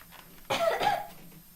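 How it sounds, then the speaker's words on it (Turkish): A single sharp cough bursts out close by after a quiet moment, then fades back into near silence. "öksürdüm"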